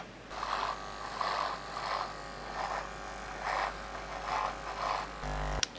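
An electric shaver shaving a beard buzzes close by in short repeated passes, its hum swelling and fading in a steady rhythm.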